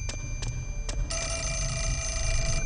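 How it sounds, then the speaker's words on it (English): An old telephone bell rings in the Fatal Frame 4 horror video game, a few quick metallic strikes building into a sustained bright ring over a low background drone, with no talking. "Yeah, there's a phone ringing."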